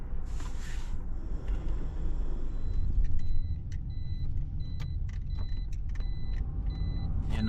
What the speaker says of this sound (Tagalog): Yan naman kotse na walang driver.